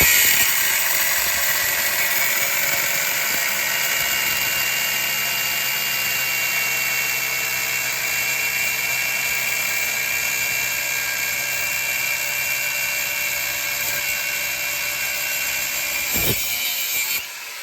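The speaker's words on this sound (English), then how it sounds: "I use my little mini cutoff tool" A small mini cutoff tool cuts through a front suspension bolt on a 2004 Subaru Forester during a front end teardown, giving a loud, steady high-pitched whine that holds without a break and drops off near the end.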